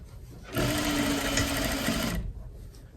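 A sewing machine stitching a mini tote bag whirs in one steady, close burst of about two seconds, then stops, leaving quiet room sound.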